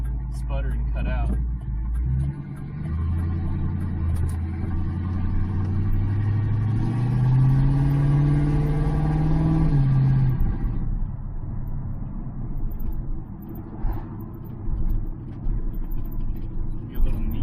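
A Ford Fairmont with swapped GT40P cylinder heads drives on the road, its mid-pitched engine note climbing and falling through revs before settling to a smooth idle as the car stops. A person talks over parts of it.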